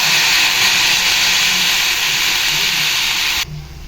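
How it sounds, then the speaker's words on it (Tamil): Water poured into a hot pan of beans, carrot and coconut stir-fry bursts into a loud, close, continuous steam hiss that holds steady, then cuts off abruptly near the end. "இப்போது ஒரு 2 ஸ்பூன் தண்ணி மட்டும் ஊற்றிக்கலாம்"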